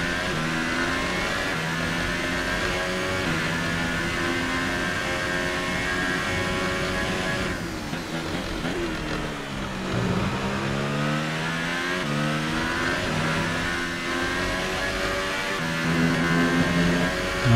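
An F1 2018 racing car engine at full throttle at Hockenheim: a loud, continuous high-pitched whine climbing through the gears, dipping at about eight seconds on a lift, then rising steadily again.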